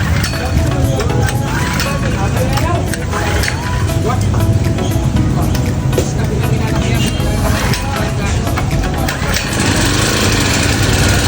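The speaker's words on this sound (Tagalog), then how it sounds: "umaandar na siya, medyo maingay nga pala yung generator" A small portable generator engine drones loudly and steadily throughout, with a rough buzzing rattle and no pauses.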